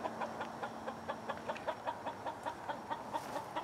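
Steady, rhythmic clucking from a hen making her eggs, a quick series of short repeated calls at close range with no talking.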